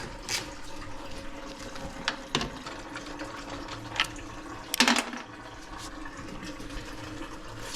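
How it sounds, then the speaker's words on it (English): Water runs steadily from a tap, a constant hiss broken by a few brief clicks and knocks. "Sorry for the noise of the running water."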